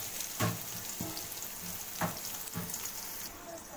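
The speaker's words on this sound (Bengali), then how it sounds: "এবার আমি কিছুটা তেল দিয়ে দেব। এবার দিয়ে দেব পেঁয়াজ" Onions frying in oil in a cooking pot for a Bangladeshi beef and potato curry, a steady close sizzle with a few louder crackling bursts, no talking.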